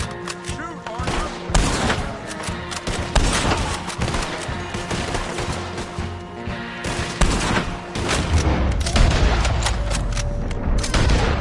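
Gunfire crackles in Red Dead Redemption 2 as Arthur Morgan fights from cover, with dense overlapping shots, booming blasts and rapid volleys, loud and close, mixed with game dialogue.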